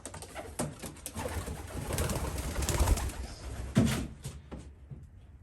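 Pigeons coo in a breeders section of a loft, soft repeated throaty calls over a steady rustle of birds, with a brief louder flutter near the end and no talking.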